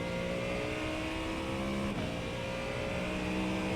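A Ford Mustang GT3 in the iRacing sim races the Nürburgring Nordschleife at full throttle, its engine droning steadily and loudly with a sustained high rev tone and a brief dip midway, no talk over it.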